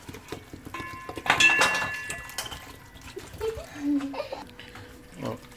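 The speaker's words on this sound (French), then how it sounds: "Ensuite, vous remplissez d'eau, donc jusqu'à hauteur" Tap water runs into a cooking pot of vegetables for pumpkin soup, a fairly close splashing fill with a few metallic clinks, with talking partway through.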